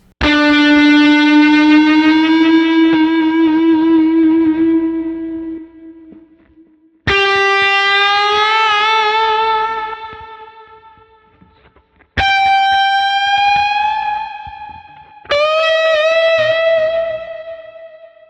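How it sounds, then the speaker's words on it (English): Distorted electric guitar playing slow bends: four sustained notes, each pushed gradually upward in pitch and left to ring, the first and longest fading out before the next attack. "Now there's nothing quite like the slow bend to hit your listener right here."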